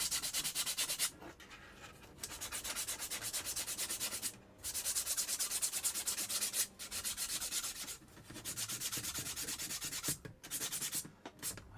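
Small wooden finger pieces being hand sanded, a loud continuous scratchy rubbing in repeated strokes with brief pauses between passes, heard alone and close up.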